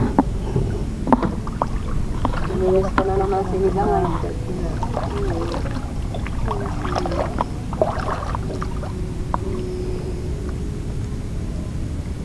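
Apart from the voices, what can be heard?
fishing boat on the sea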